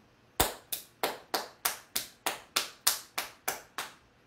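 A church congregation claps in unison, about a dozen sharp, evenly spaced claps at a steady beat, with no talking over them.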